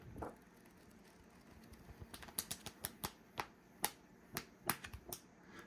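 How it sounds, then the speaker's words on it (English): Waterproof stone-paper pages of a limestone-polymer book flick and snap down one after another, a quick irregular series of crisp close-up clicks and rustles with no talking. "And just listen to the way the pages sound."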